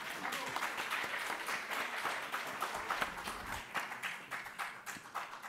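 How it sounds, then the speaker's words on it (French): An audience at a French legal conference claps after a short talk, a soft, steady patter of many hands heard from a distance and lasting several seconds. "Après ces applaudissements,"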